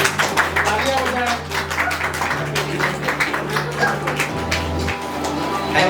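An audience at a Teacher's Day program at a computer institute claps in a quick, uneven patter of close hand claps, with voices talking over it.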